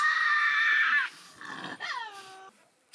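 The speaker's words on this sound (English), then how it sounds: "When threatened, this stocky marsupial is prone to bare its sharp teeth, lunge and growl." A threatened Tasmanian devil, a stocky marsupial, gives a loud harsh screeching growl, then a shorter rasping cry with a falling whine, followed by a brief sharp yelp at the end, close by.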